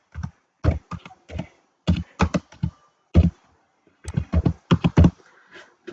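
Typing on a computer keyboard while filling in a Google Form, with bursts of crisp, close key taps coming in irregular clusters separated by brief pauses.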